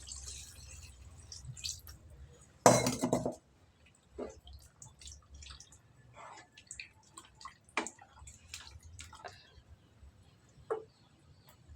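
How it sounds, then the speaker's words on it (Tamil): Water splashes into a pot in one short, loud burst, followed by scattered soft drips and faint clinks in an otherwise quiet room. "தேவையான அளவுக்கு தண்ணி ஊற்றிக்கலாம்"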